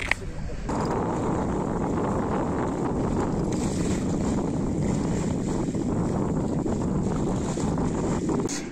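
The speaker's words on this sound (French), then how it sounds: "le Mistral s'est levé, établi à 30, rafale à 39" A strong Mistral wind of about 30 knots, gusting near 40, roars steadily over a sailing boat at sea. The loud buffeting rush and hull noise continue almost without a break.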